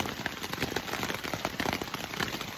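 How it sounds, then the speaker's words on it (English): Heavy rain patters densely on a surface, a steady crackling hiss of drops with no voices. "Oh, it is raining hard."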